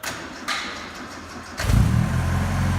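A 1956 Austin Healey BN2, unstarted for about three weeks, cranks briefly after a couple of clicks and thumps, then catches instantly into a loud, steady idle close by.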